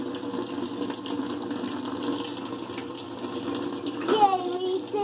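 Cold water runs steadily into a washing machine, a constant close gush with a brief splashy surge near the end.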